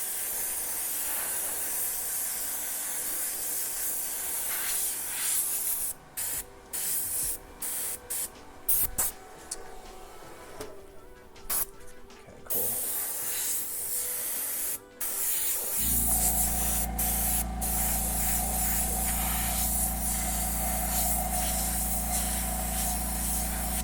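A gravity-feed airbrush with a 0.5 nozzle sprays paint onto pants in a steady close hiss, cut by several brief pauses, then a louder, deeper continuous hiss takes over in the second half.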